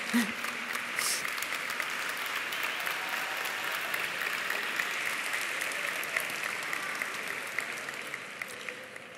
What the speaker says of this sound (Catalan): Que se sentin aquests aplaudiments